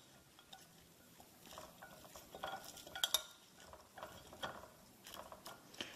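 Mustard greens (gai choy) are tossed with oil, with soft intermittent clicks and scrapes of utensils against a dish. The sounds are faint and close, with no talking.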